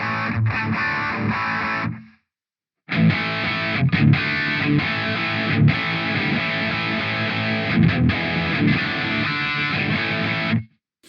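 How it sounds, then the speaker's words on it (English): Distorted electric guitar through an Ampero digital amp modeler playing chords and riffs, dry and upfront with no reverb or room echo, pausing briefly before resuming. "what you're going to hear now is just a dry amp sound, no reverb"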